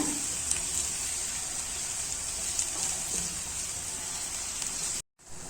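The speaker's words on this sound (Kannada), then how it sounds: "ಈರುಳ್ಳಿ ಚೆನ್ನಾಗಿ ಫ್ರೈ ಆಗಬೇಕು" Onions frying in a pan for a mushroom gravy, giving a steady close crackling sizzle throughout, broken by a brief silent gap near the end.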